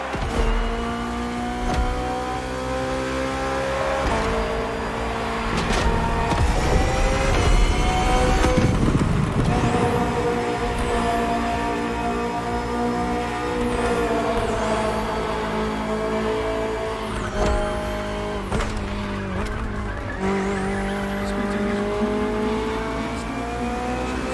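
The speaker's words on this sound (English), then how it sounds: "Finally, the BMW M Hybrid V8. What a beast." The BMW M Hybrid V8, a 2023 endurance race car built for events like the 24 Hours of Le Mans, roars loud and steady in a racing video game. The engine climbs and drops in pitch through repeated upshifts and revs, with no talk over it.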